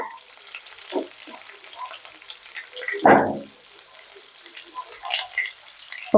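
Large onions sautéing in a pan for South Indian tomato kuzhambu, a soft sizzle and stirring that swell into one louder burst midway, with some talk in the background.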